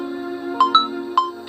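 A mobile phone ringtone plays as a sound effect: a few quick bright electronic chime notes at moderate level over a low steady background tone.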